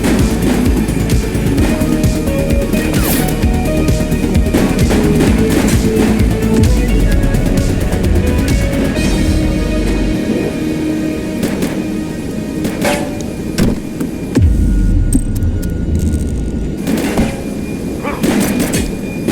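Gunfire in The Precinct, a 1980s policing video game, with repeated loud shots and heavy thuds over dense, continuous game noise for the whole stretch.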